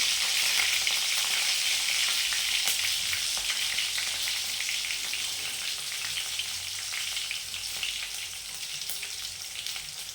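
Garlic and seeds sizzle and fry steadily in a hot pan, a dense crackling hiss that stays loud and even throughout, with a few sharper pops and no voices.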